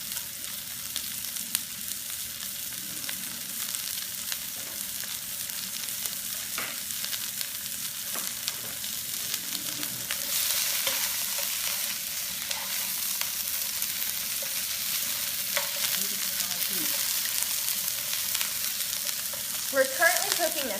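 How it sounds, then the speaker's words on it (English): Onions sizzle steadily in a pan over medium-high heat as they stir-fry for fajita chicken salad. A dense, continuous hiss holds throughout, with occasional soft scrapes of stirring. "For the stir fry, I'm going to first start with the onions"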